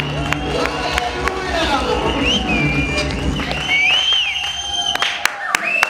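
A church congregation at a celebration service applauds and cheers for Jesus, loud sustained clapping mixed with shouts, ululation and crowd voices filling the room.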